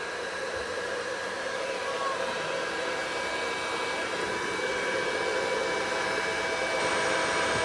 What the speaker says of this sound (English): Now let's ask it to start the dryer.